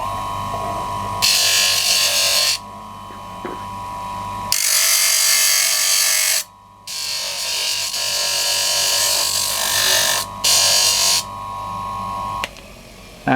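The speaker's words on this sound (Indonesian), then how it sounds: "sebelum dipotong kita amplas dulu sedikit bagian ujung" A power sander works the tip of a homemade arrowhead in repeated bursts of abrasive, high-pitched grinding, with short pauses between passes and a steady motor hum underneath. No voices are heard.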